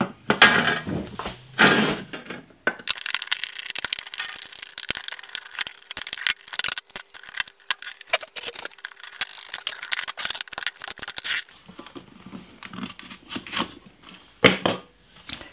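Sharp metallic clicks, scrapes and rattles of a manual handsaw blade being worked loose from its handle, in irregular bursts with short pauses.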